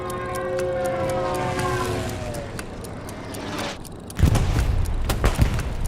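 A Stuka dive bomber attack in a video game: a wailing siren sweeps downward over engine drone for several seconds, then a heavy explosion bursts in, followed by rumbling blasts and sharp gunfire cracks.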